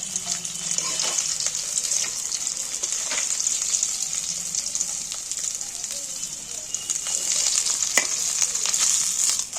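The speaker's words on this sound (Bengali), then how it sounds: "এবার বাকি মাছগুলো তুলে দিচ্ছি এগুলো ভেজে নিচ্ছি" Pieces of hilsa fish frying in oil give a steady, close, bright sizzle that runs throughout, with a few faint clinks of a utensil.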